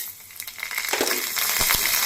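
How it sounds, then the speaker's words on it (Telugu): Tempering seeds crackling and sizzling as they drop into hot oil, with dried red chillies already frying, a steady close sizzle with a few sharp pops. "తాలింపు గింజలు వేస్తున్నానండి"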